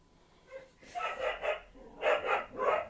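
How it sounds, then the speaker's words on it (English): Dogs bark in a few bursts, moderately close and fairly quiet, with some faint breathing or whimpering between the barks. "Pupper dogs."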